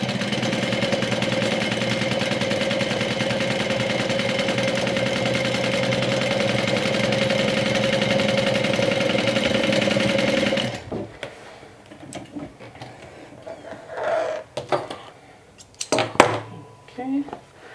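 A sewing machine runs steadily, stitching fleece pieces of a Sew Sweetness Gloss cosmetic bag with a quarter-inch seam, loud and continuous for about eleven seconds before stopping; scattered handling noises follow.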